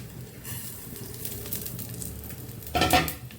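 Fenugreek, whole cumin and mustard seeds fry in a little oil with a close, continuous sizzle, then a louder burst of stirring and spattering near the end.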